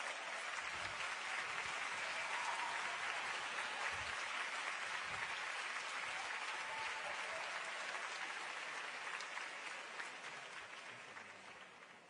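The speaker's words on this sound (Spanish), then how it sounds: "un fuerte aplauso para recibirlo." A concert audience applauds to welcome a singer on stage, a long, steady wash of clapping from a large crowd that slowly tapers off toward the end.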